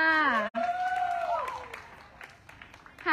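Scattered audience applause for a Thai band after a live set at an exhibition, starting under a voice and then thinning to faint, patchy clapping.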